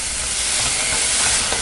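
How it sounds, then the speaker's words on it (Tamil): Chopped onions and tomato with a little salt sauté in a pan, giving a steady, close sizzle with faint stirring. "1 நிமிஷம் வரைக்கும் நல்லா வதங்கட்டும்."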